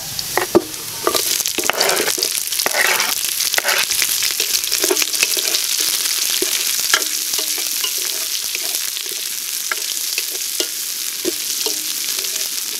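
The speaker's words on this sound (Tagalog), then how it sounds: "magigisa na tayo ng ating luya" Garlic, ginger and onion sautéing in a pan for sotanghon, a steady loud sizzle with repeated scraping stir strokes running throughout, no talking.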